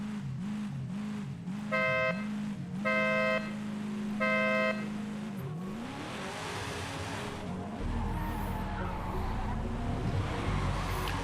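A Mark 5 Supra drift car runs at a drift event at Moto Arena Lodz, a loud, steady engine drone with revving swells, faint horn-like tones, and a rising rush and tire noise as the car launches into its run.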